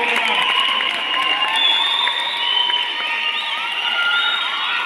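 Crowd noise at a district taekwondo selection and medal ceremony, a continuous mix of children shouting, cheering and scattered voices with some clapping, loud and steady throughout.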